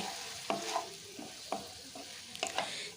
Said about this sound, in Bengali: সমস্ত উপকরণগুলো বেশ ভালো করে নাড়াচাড়া করে মিশিয়ে নিচ্ছে